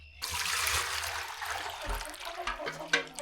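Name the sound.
water spilling from a container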